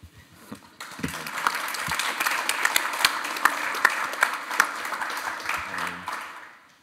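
Audience applause for a presenter at an Idea Café talk, rising from scattered claps into a full, steady round of clapping that holds for several seconds before tapering off.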